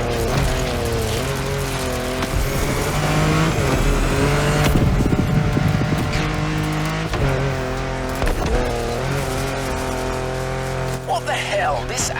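Car racing along in The Crew Motorfest, engine roaring and revving loudly throughout with shifting pitch, tire noise and bumps, alongside music and game sounds.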